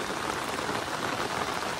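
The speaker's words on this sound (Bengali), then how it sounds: "কি বৃষ্টি শুরু হলো" Rain begins falling outdoors beside a fishing spot, a steady, even hiss of drops hitting surfaces with no talk.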